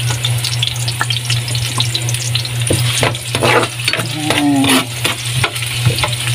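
Garlic sizzles steadily in a hot pan for a sayote and corned beef soup, with a loud continuous crackle, a few utensil scrapes and clinks, and a steady hum underneath; no one speaks.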